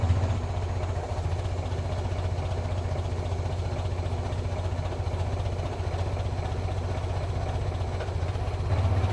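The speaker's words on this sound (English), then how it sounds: "So it started. Yep, I'll idle this down a little bit." An antique car at a car museum idles after being started, a steady low rumbling engine note with an even pulse, close and unchanging throughout with no talking.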